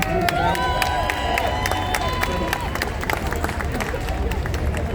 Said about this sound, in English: A big round of applause for Maliki